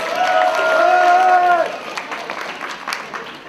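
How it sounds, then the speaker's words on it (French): An audience at a French cosplay contest, DeTo 2017, cheers, with a sustained voice-like tone at first, then settles into a lighter, scattered round of clapping that thins toward the end. "Merci, on l'applaudit bien fort."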